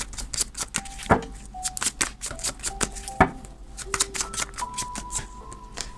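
Tarot cards being shuffled and drawn, a quick run of crisp, close slaps and flicks with a few sharper snaps, fairly quiet, along with faint tonal hum in the background.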